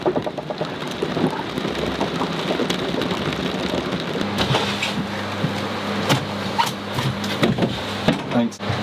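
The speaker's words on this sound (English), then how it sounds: "it is pouring in" Heavy rain pours down on a liveaboard sailing boat: a steady, loud wash of hiss with scattered sharper drips and knocks, and a low hum entering partway through.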